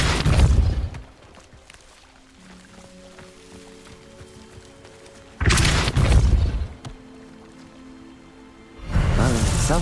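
Two heavy booming blasts from the Depulso spell in the Hogwarts Legacy video game, one near the middle and another at the end, loud and close over a quiet, humming game backdrop with no talking.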